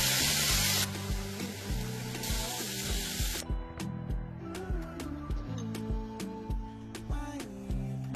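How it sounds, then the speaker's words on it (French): Grilled chicken sizzles in a hot pan as a sauce of agave syrup, honey, soy sauce and ginger is added, a loud hiss bursting in, then steady crackling with small pops and clinks. "Maintenant que le poulet il a bien grillé, on va pouvoir faire la sauce."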